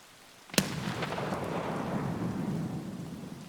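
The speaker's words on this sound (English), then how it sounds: "There's another grenade." A single grenade blast in Escape from Tarkov near a building: one sharp crack, then a long rumbling decay that slowly fades over a few seconds, fairly distant and alone.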